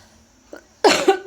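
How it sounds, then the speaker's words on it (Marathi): A woman coughs close by, a faint short throat sound followed by two strong, harsh coughs in quick succession. "तर मला एवढा खोकला येतो ना"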